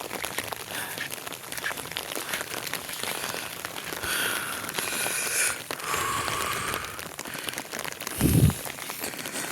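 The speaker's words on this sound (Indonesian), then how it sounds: "Seperti inilah suasana di malam hari teman-teman, dan ini hujan, suasana hujan." Night rain at an ecotourism camp on the slopes of Merapi makes a steady, soft hiss throughout, with a brief low thump near the end.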